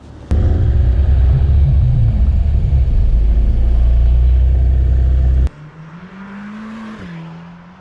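A Mercedes-AMG GT Black Series engine gives a deep, loud rumble, idling and revving for several seconds, then cuts to a quieter, smoother hum that rises briefly in pitch.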